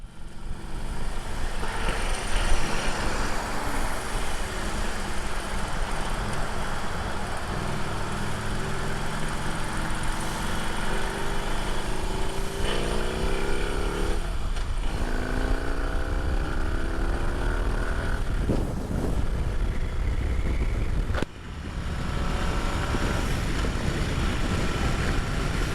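A Harley-Davidson Road Glide motorcycle cruises on a highway, its steady engine drone buried under constant loud wind roar, with a brief passing swell midway.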